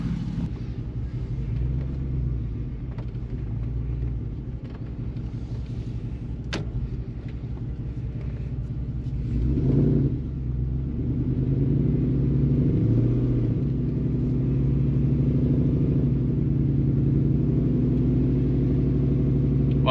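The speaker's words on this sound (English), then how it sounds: "So let's go ahead and do a little test drive." A 2009 Jeep with a 6.4L 392 Hemi V8 on a test drive after a valve body computer replacement, heard from inside as a steady low engine rumble and road drone that rises and swells partway through as it accelerates.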